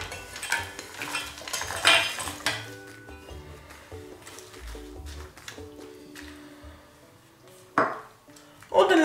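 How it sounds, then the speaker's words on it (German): Chocolate goes into a pot of hot cream, with metal and utensil clinks, scraping and stirring against the pot, and a couple of sharper clatters near the end, close up in a kitchen. "Und die Schokolade, die gebe ich mir jetzt einmal in die heiße Sahne."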